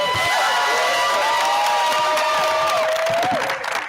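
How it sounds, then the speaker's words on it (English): An audience cheers and applauds for Anne at a leadership forum event: a continuous crowd roar with clapping runs loud throughout, while a sustained tonal whistle or voice rises above it. "we want to hear just one more cheer for Anne"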